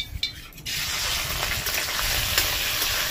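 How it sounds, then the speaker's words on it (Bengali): Prawns dropped into hot oil in a kadai, starting after a few faint clinks and then settling into a steady, loud sizzle and crackle that continues to the end, with no talk. "তেলটা পুরোপুরি গরম করে নিয়েছি, এখানে দিয়ে দিচ্ছি চিংড়ি মাছগুলোকে।"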